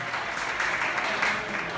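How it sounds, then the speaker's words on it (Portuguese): Audience applause at a ballroom dance contest, a dense, steady wash of clapping with some voices mixed in, sustained evenly through the short stretch. "Uma salva de palmas!"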